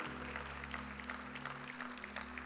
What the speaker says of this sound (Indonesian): berikan tepuk tangan yang paling meriah untuk Tuhan Yesus.